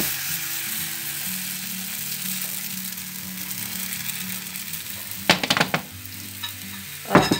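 A marbled chocolate crêpe cooking in a pan gives a steady, gentle sizzle throughout, broken near the end by a couple of brief sharp scraping clatters of a utensil.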